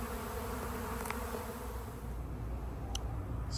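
A honeybee swarm buzzing outdoors during a capture attempt: a continuous, faint, even drone of many bees, with no voices.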